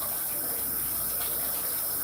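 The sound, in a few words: tap water being added to a cooking pot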